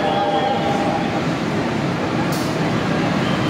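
A train rolls into a station in Indonesia, a loud, steady rumble filling the whole clip with a brief hiss partway through.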